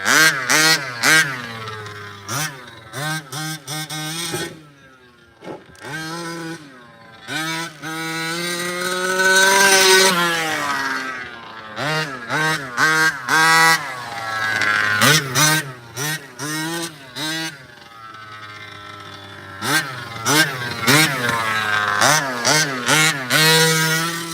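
Team Losi RC cars with high-pitched electric motors whining and revving in repeated short bursts, rising and falling quickly, close by and fairly loud with brief pauses between runs.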